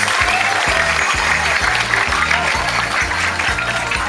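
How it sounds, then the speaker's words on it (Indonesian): Steady, dense applause from a group of children fills the whole stretch, loud and continuous, with faint voices mixed in. "beri penghargaan untuk anak yang jujur dengan tepuk tangan"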